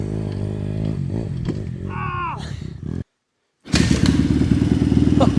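A motorcycle being kick-started with a thud and clatter, then the engine roars to life close by and runs loud and steady, with people talking over it before it starts.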